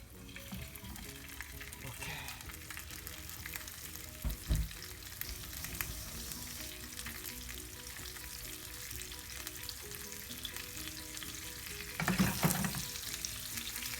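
Mackerel fillets fry in a pan with a steady sizzle and spatter throughout, plus a brief utensil knock and a louder burst of crackling near the end, with no talking.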